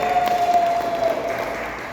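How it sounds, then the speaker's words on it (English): Youth footballers clap for themselves at a training session, a dense, steady burst of applause from a group close by, sustained for the full two seconds with a faint tone running beneath. "Give yourselves a round of applause now."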